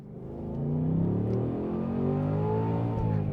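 A Ford Mustang GT (S650) V8 engine revs up and holds a deep, loud, rumbling drone heard from inside the car, building over the first second and then sustaining with slight rises in pitch.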